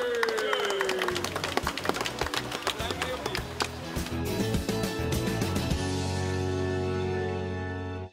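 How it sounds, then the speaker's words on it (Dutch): Applause for children receiving their diplomas, a long run of dense hand claps that gives way to music after about six seconds. "Applaus!"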